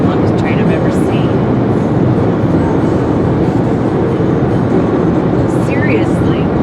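A very long freight train pulled by four engines rolls past nearby as a steady, loud rumble of wagons, with occasional higher squeals and people talking over it throughout.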